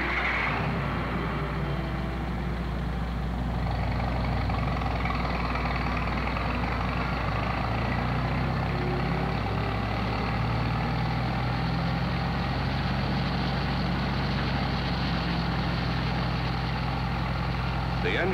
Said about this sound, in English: The engine is run at the rated speed.